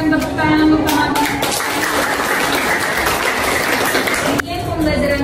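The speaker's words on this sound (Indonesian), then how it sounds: "Kita berikan tepuk tangan untuk teman-teman." Classmates clapping for fellow students in a school classroom lesson, a lively burst of many hands that swells early, holds steady, then cuts off sharply near the end, with faint talk around it.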